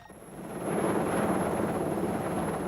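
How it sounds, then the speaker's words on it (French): Airplanes take off at daybreak during a violent storm, their engine roar rising quickly and then holding as a steady, loud, broad rumble with a thin high whine above it. "Au lever du jour, les avions décollent."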